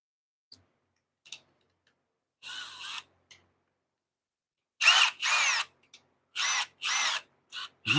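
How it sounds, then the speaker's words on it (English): A power drill pre-drills a hole in a quiet room: several short, high whirring bursts rise and stop, with a few faint clicks between them and a louder run of bursts near the end. "I have to pre-drill"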